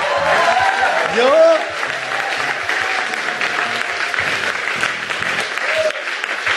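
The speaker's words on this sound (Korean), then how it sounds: "여러분 박수 한번 주세요." A church congregation at Gangseo Bible Baptist Church claps together, a dense steady applause throughout, while voices rise over it, with a brief louder burst of cheering early on.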